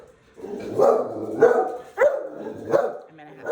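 Dogs barking in a home, several loud barks in an irregular series close by, with yips and whimpers between them.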